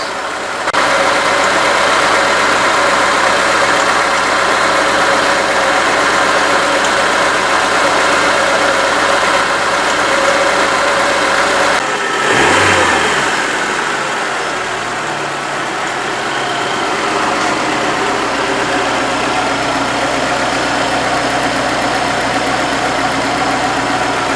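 Chevrolet Niva engine idling steadily after a timing chain repair, a loud continuous mechanical running sound with a brief shift in tone midway, no voices.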